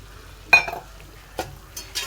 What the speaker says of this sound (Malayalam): ഇനിയൊന്ന് ഇളക്കി കൊടുക്കണം.